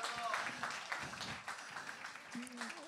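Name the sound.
audience applauding a speaker joining the stage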